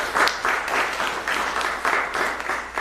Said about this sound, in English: I'd love everyone to give yourselves a round of applause